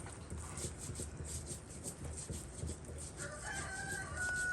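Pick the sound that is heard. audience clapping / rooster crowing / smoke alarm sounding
rooster crowing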